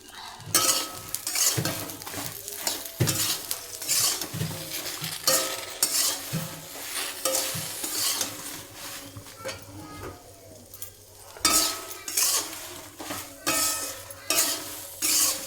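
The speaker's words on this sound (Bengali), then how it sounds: "নুনটা দিয়ে আবারও একটু নেড়ে চেড়ে নেবো" Jujube fruit is stirred with turmeric and salt in a pan, the spoon scraping and clattering in a repeated rhythm over a light sizzle, close and fairly loud.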